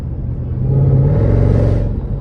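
A 640 hp Mercedes E55 AMG engine, fitted with a new crank pulley, is worked with on-off throttle. It gives a loud, close rumble that swells and then eases over about two seconds.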